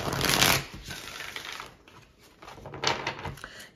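An oracle card deck is shuffled close by in two quick bursts of riffling and flapping card noise, the first near the start and the second toward the end, with a quieter gap between them.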